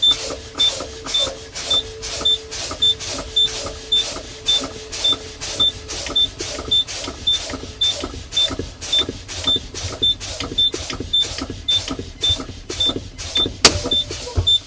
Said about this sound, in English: Now I'm going to continue to fan my brakes to make sure that my valves pop out